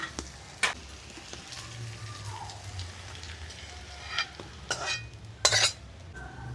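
Fried pointed gourd and onion being stirred into masala in a pan for a rohu fish and poppy seed dish, soft frying hiss with several sharp utensil clinks and scrapes, close and moderately loud.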